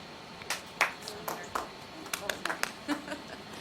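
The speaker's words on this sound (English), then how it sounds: "I heard a smattering of applause." Sparse, scattered applause at a news conference held by Biden and Harris during the RNC in Milwaukee: a handful of isolated, separate claps rather than a full ovation, with speech running under and between them.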